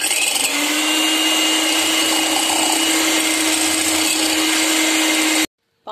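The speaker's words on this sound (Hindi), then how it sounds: "जब मैं क्रीम के लिए बीट करने के लिए इसको जब चलाऊंगी तो शोर होगा।" An electric hand beater whipping cream at home makes a steady, loud motorized whir with a high whine. It runs without a break for about five seconds, then cuts off abruptly.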